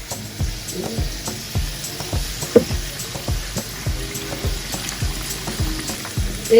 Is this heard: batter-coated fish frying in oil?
yes